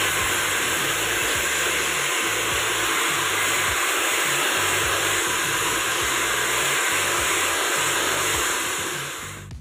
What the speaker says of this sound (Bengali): হয়ে যাওয়ার পর ড্রায়ার দিয়ে শোকালো আমার হেয়ারটাকে।